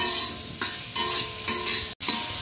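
Chopped onions frying in a generous amount of oil for chicken rolls, a steady close sizzle with regular scraping stirs about every half second and one brief cutout near the end.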